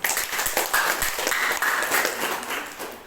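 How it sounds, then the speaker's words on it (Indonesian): An audience at a DDI organisation gathering claps for Pak Zenan, a short burst of dense, fairly close applause that stays steady before easing slightly at the end. "Tepuk tangan dulu untuk Pak Zenan"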